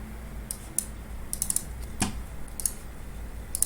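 A password being typed on a computer keyboard at a Raspberry Pi login, a few quiet scattered key taps over a low background hum, with no speech.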